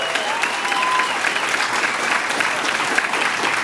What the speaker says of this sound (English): I said we'd give her another applause there.